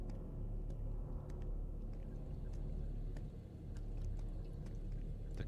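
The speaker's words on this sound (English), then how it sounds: "The car is still out there." A low, steady engine rumble from a car idling outside in the horror game Autopsy Simulator, faint and continuous, with occasional small clicks and no talking.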